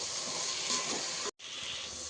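Onion-spice paste frying in oil in a pan, a steady close sizzling hiss that breaks off briefly for a split second before carrying on.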